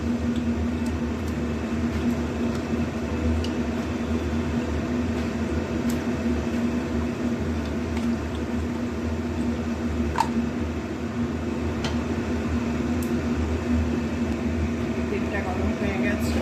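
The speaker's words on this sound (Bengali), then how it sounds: "চিমনি চালাতে দিয়েছি।" A kitchen chimney exhaust hood runs with a steady, even drone and hum throughout, with faint clinks from cooking over it.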